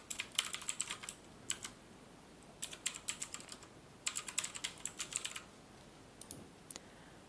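Fingers type an email address on a computer keyboard in short, quick bursts of crisp key clicks separated by brief pauses, close and fairly quiet, with no speech.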